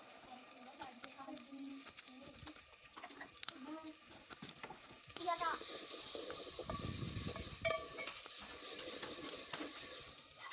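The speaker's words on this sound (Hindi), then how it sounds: "इसके बाद इसके अंदर हमने प्याज फ्राई करने हैं, हम ब्राउन होने तक" Onions fry in hot cooking oil in a pot during a village-style beef keema preparation, a steady soft sizzle with scraping and stirring running throughout, a voice talking over parts of it.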